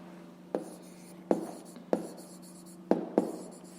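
Pen on paper while a grade-5 math exercise is worked out by hand: a handful of short, sharp scratching strokes at uneven intervals, close and quiet over a low steady hum, with no talking.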